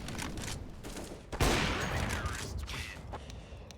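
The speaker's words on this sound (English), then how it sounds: "Deploying flashbang." A flashbang grenade bursts in a Source engine video game, a sharp loud blast followed by a ringing, hissing wash that fades over a few seconds above steady background game noise.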